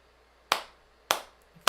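Two sharp hand claps about 0.6 seconds apart, close and alone, each with a short room decay, marking a steady pulse at tempo 104 during a live piano rhythm lesson.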